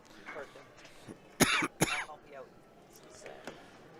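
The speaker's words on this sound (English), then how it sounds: "I had a little bit of a coughing spell there" A couple of sharp coughs break out close up amid quiet murmuring talk at a pool tournament.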